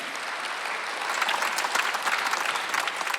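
A church congregation breaks into applause during a Sunday worship sermon, a thick, continuous patter of clapping that swells slightly in the middle and stays loud throughout.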